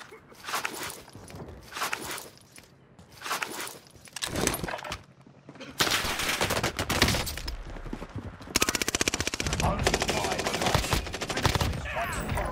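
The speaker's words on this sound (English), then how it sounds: "They're shooting me!" Gunfire in Call of Duty Warzone on Rebirth Island starts as bursts of shots separated by short gaps, then becomes sustained rapid automatic fire. The shooting is fairly loud and close.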